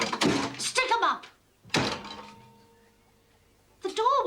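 A door swings shut in a 1985 British murder-mystery drama with two solid thuds about a second and a half apart, heard close and mixed with voices.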